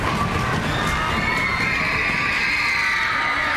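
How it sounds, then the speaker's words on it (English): An audience at a school orchestra concert cheers and shouts, with a sustained crowd roar and high excited voices, fairly loud and steady throughout. "So can we give him some applause?"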